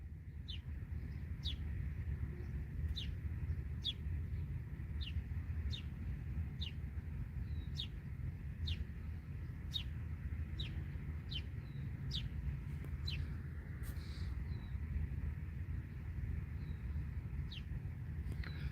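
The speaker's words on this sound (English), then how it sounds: "There's a lot of American brown sparrows down here." American brown sparrows chirping outdoors, short bright chirps repeating at an even, regular rhythm above a constant low rumble of distant traffic, going on for a long stretch.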